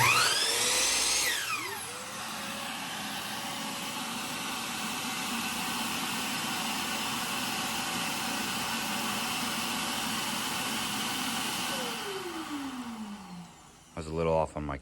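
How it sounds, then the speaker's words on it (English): Miter saw with a dust-collecting vacuum attached at a workbench: the saw spins up with a sharp whine, a steady loud roar of saw and vacuum runs for about ten seconds, then winds down and cuts off near the end, followed by a few clicks. "the vacuum stays running for 5 seconds before it shuts off to make sure all that dust gets collected"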